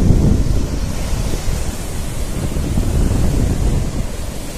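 Sea waves roll onto Marina Beach in Chennai on the Bay of Bengal, a steady, loud rushing surf roar mixed with wind buffeting the microphone, with no voices.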